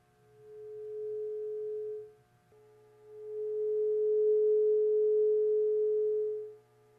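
A 341 hertz tuning fork resonating over a tube of water, two steady pure hums, a shorter one, then a longer and louder one that swells and fades, clean and alone.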